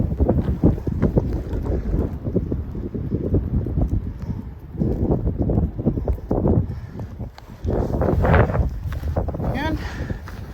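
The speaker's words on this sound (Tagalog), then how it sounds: "Lakas ng hangin dito." Strong wind roars and buffets the microphone on the Col du Marchairuz mountain pass in the Jura, Switzerland, in a loud, continuous rumble with gusts, while people talk over it.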